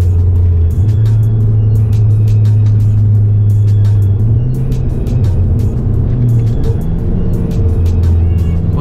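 A 2014 Ford Focus ST accelerates hard from about 45, its engine a loud, steady low rumble that climbs and shifts in pitch over nearly nine seconds, heard up close from the car.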